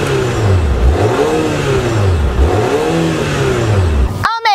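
A 2021 Volvo XC90 Recharge plug-in hybrid, a turbocharged and supercharged engine assisted by an electric motor, revs repeatedly in rising and falling sweeps, loud and close, ending with a sharp cut-off.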